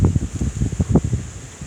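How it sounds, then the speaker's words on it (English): Gusty outdoor wind buffets the microphone in uneven low rumbling bursts for a couple of seconds, with no voices. "Windy today."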